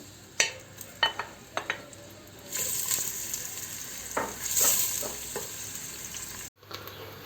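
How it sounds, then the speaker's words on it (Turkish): Onions frying in oil give a steady sizzling hiss, with a few sharp clinks of a utensil stirring the pan at the start. "Doğramış olduğumuz soğanları pembeleşinceye kadar kavuralım."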